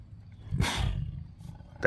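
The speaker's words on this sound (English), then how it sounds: "That was a sneeze again." A dog gives a short, sharp sneeze, with a brief snorting burst of breath close by that fades quickly, then a faint rustle at the end.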